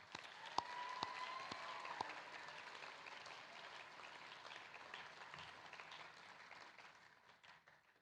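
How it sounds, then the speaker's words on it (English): An audience at a senior thesis event applauds the presenters with a broad, steady patter of clapping, a few crisp claps standing out early on, before the sound gradually thins and fades toward the end. "Let's give them all a round of applause."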